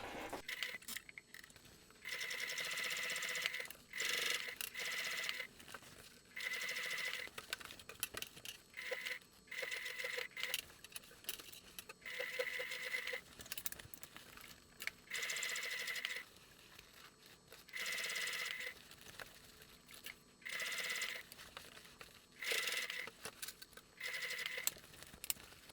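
A sewing machine top stitching a bag runs in repeated bursts of rapid mechanical whirring and ticking, stopping and starting several times, close and fairly quiet, with no talk.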